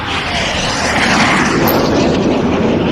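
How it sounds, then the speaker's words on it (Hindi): Loud, continuous roaring rush of the mythical Pushpak Vimana flying chariot, rendered as an aircraft-like sound effect in a horror audio drama, building slightly and holding steady throughout without voices. "पुष्पक विमान की आवाज"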